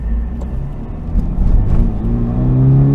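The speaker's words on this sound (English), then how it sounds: "Pedal down right now. It'll do 59 miles per hour there in second gear." A 2022 Toyota GR86 pulls hard in second gear, its engine note close and loud, climbing steadily in pitch as revs build, with no voices over it.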